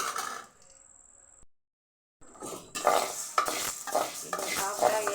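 Dried pirandai (adamant creeper) powder dry-roasting in a pan, a spoon scraping and clinking against metal in quick repeated strokes after a brief silent gap, close and clear, no talk.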